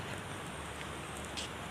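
Steady rain falling in a wooded area with large trees, a dense, constant hiss that stays even and fairly loud throughout, with no voices.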